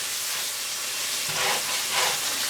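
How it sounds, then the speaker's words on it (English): Gluten-free flour being stirred into ground meat frying in its grease for hamburger gravy, a steady close sizzle with two soft scraping swells of the spoon through the pan. "I'm going to stir that into the meat"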